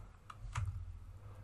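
Typing on a computer keyboard while writing Java code in an editor, a few soft, separate key clicks over quiet room hum, close and faint, with no talking.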